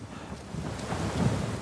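Rain falls during a jungle stretch of the video game Uncharted 4, a continuous low, windy rushing wash that swells slightly toward the end, with no distinct thunderclap standing out.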